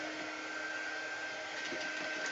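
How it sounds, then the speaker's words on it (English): A small hand-held dryer blows steadily to dry chalk paint on a picture frame, a constant whooshing hum with a faint motor whine, close and unbroken throughout, with no speech. "So I'm just taking my little dryer, drying that up."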